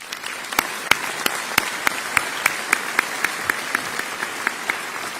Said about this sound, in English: Can you please give a warm round of applause to all the families who have supported our students?